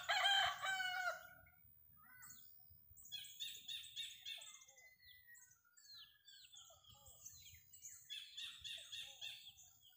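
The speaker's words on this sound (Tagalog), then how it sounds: "May manok doon." A rooster crows once loudly near the start, followed by faint bird chirps and distant calls scattered through an otherwise quiet outdoor scene.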